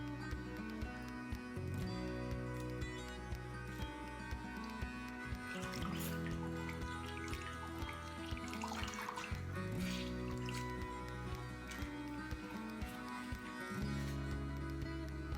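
Shibori-dyed fabric pieces are dropped into a bath of dye, giving soft drips, trickles and wet squishes that sit faintly under steady background music.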